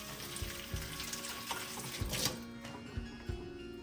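Tumbled Lake Superior rocks come out of a borax rinse under steady running water, with occasional soft knocks of stone against stone.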